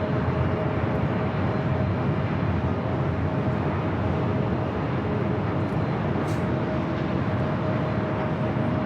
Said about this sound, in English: This is Delta Airlines 794 coming in from Detroit on the 737-900ER